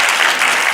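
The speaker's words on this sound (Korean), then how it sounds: "우리 격려와 박수 한번." An audience breaks into steady, loud applause at a Korean political talk event, dense hand clapping throughout the brief moment with no voices over it.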